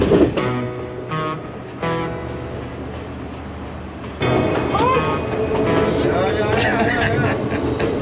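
A train on the Kandy to Ella railway in Sri Lanka's hill country rumbles and clatters steadily at close range, growing louder partway through, as people talk nearby.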